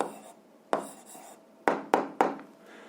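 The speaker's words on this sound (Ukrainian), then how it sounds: "Ну що ж, записуємо відповідь, пишемо відповідь." Pen on paper while writing down the answer to an 8th-grade algebra exercise: a few close, crisp scratchy strokes and taps in quick succession, heard alone.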